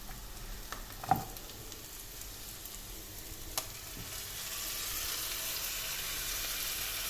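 Steady sizzling of tomato paste and vegetables frying in a pan, with a couple of sharp utensil clinks early on as the sizzle grows louder and more constant.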